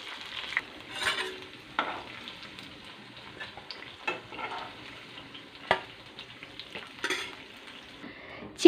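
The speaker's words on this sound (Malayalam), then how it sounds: "ചിക്കൻ ഫ്രൈ ചെയ്യാൻ വച്ചിരിക്കുന്നത് ഏകദേശം പകുതിയോളം മൂപ്പായിട്ടുണ്ട്" Chicken pieces frying in a pan of hot oil for a Kerala chicken curry, giving a steady close crackling sizzle with a few sharper pops and scraping clinks throughout.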